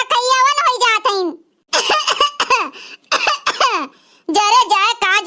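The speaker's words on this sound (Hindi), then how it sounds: "जरे जाए का जनी कितना खांसी आवत है हमरे" A cartoon woman coughs repeatedly in short harsh bursts between brief pauses, close and loud, with some vocal strain mixed in.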